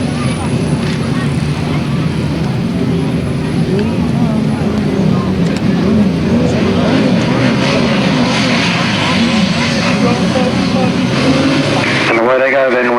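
Several grasstrack racing motorcycles with sidecars roar off the start line together in a loud, sustained, dense engine blare, a faint announcer voice beneath it, before the noise abruptly thins at the end.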